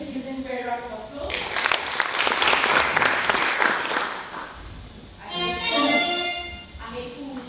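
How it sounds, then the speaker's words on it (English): An audience at a national teacher awards ceremony bursts into applause for several seconds, a dense clapping roar between stretches of a speaker's amplified voice, which returns as the clapping fades. "Let's give them a very round of applause."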